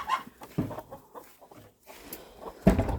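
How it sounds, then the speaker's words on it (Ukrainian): Chickens cluck and squawk in short irregular bursts nearby, with quiet gaps between the calls. "Кури там щось верещать."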